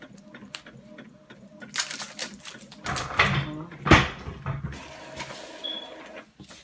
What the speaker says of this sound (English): So my image is printing.